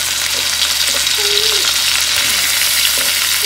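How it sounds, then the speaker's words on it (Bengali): Tomato and ginger frying in oil with asafoetida in a small new iron kadai, a steady, loud sizzle running throughout with a few faint stirring scrapes and no talk. "আদাটা একটু ভাজা ভাজা হলে এর মধ্যে দিয়ে দিচ্ছি টমেটো।"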